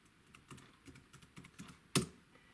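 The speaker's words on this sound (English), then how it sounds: "This keyboard's kind of a pain to type on because it's so small" Typing on a small keyboard for a Raspberry Pi, a run of quick close key clicks ending in one sharp louder keystroke.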